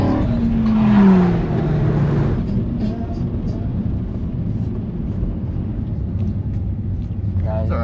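A BMW G87 M2 drives on a race track with a steady, loud, low engine drone and road rumble heard from inside the cabin, with a person talking over it.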